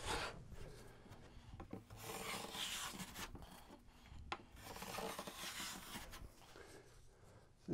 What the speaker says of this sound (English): what I'm planing here is the face side of the trim